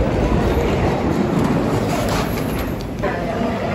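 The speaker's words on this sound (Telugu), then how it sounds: "Okay, we just reached Saint Pancras, King's Cross Saint Pancras International Terminal." Steady, dense hubbub of a large train station hall at the St Pancras International Eurostar terminal in London, with continuous broad ambient noise and no distinct single events.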